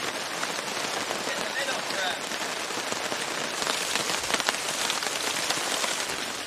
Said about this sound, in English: The rain's finally come now.